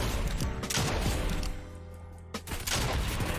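Enemy gunfire in a Fortnite aim-training map, dense rattling bursts of shots up close, a lull in the middle, then another burst, with no talking.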